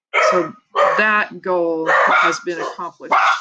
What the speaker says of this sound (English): Sorry for the dog interruption